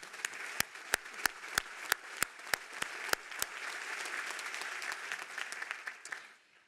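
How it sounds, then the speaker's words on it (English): A crowd applauds at a college graduation ceremony in Dover. A few sharp, loud claps ring out nearby over a steady, dense wash of applause, which fades out at the end. "That deserves a round of applause"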